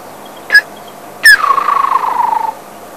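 A person whistles an imitation of a woodland kingfisher call: two sharp introductory notes followed by a loud, rapid descending trill that fades over about a second, close and clear against a quiet background.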